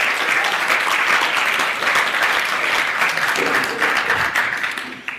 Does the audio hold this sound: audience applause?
yes